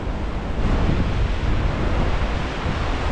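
Steady roar of high-tide surf on a Danish coast, two sets of waves meeting, with continuous broadband wash and no clear breaks; wind buffets the microphone throughout.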